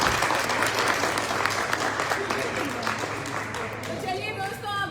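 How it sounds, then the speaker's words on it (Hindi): Loud applause from an audience for Dushyant at a celebration event, thick continuous clapping from a large crowd that fills the whole moment, with a low steady hum underneath and faint crowd voices mixed in. "जोरदार तालियां दुष्यंत को।"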